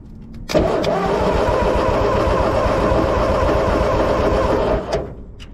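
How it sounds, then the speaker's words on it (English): A Ford 9N tractor engine more than 80 years old, ignition just reassembled, cranks over steadily and loudly for about four seconds without catching, then stops. "Come on, crank over,"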